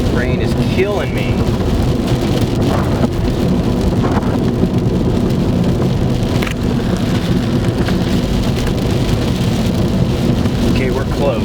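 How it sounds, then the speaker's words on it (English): Heavy rain pounds steadily and loudly close by, with thunder rumbling during a tornado-producing storm in Reynolds, Indiana, a dense continuous roar throughout. "Rain is killing me."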